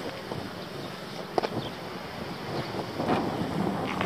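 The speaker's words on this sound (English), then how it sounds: "It's a very windy day today." Wind buffets and roars across an open microphone on the Solway coast near Port Carlisle, gusting in uneven surges with a couple of sharp bumps, no one talking.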